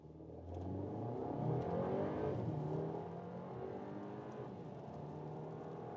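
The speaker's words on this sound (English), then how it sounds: "that was 0 to 90 kilometers an hour with the 2-liter TSI, 265 horsepower" Skoda Superb Hatch with a 2-litre TSI petrol engine of 265 horsepower accelerating hard from standstill to 90 km/h, engine note rising steadily through the gears, loud and close from inside the cabin with no one talking.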